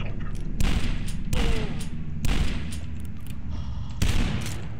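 Shotgun gunfire in the video game DUSK, several loud booming blasts at irregular intervals over continuous game noise.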